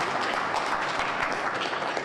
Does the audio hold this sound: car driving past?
no